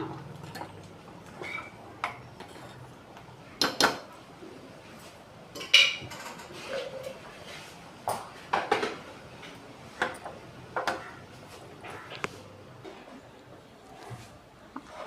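Tomato dal is ladled from a pot into a serving bowl: sparse, close metallic clinks and scrapes of spoon against steel come in irregular bursts over quiet kitchen background.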